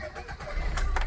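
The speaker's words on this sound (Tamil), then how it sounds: "வண்டி ஸ்டார்ட் பண்ணியாச்சு." A Maruti car engine starts after an ECM reflash, a brief crank that rises into a low running rumble, close by, with a faint metallic jingle at the start.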